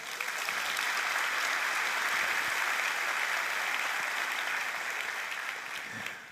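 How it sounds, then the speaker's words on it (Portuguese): A church congregation breaks into sustained applause during a Bible Day service, a dense, even clapping from many hands that holds steady for several seconds before tapering off at the end. "vamos aplaudir a Deus pela Bíblia."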